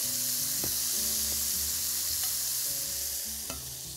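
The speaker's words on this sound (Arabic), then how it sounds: "عايزة ياخد تشويحة واحدة مع كل المكونات دي" Ingredients for beef shawarma sizzle and fry steadily in a hot pan, with a continuous close crackle and occasional stirring scrapes and taps, no talking.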